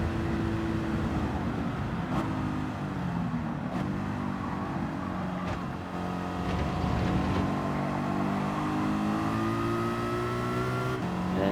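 A 2009 Mercedes McLaren SLR in Gran Turismo 7 holds near-full throttle, its engine droning steadily with rising pitch through gears and brief shift breaks, loud and continuous.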